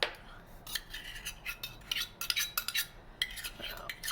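A mixing spoon stirs glue in a bowl for fluffy slime, making a close, uneven string of scraping clinks and soft knocks against the bowl, heard alone with no voices.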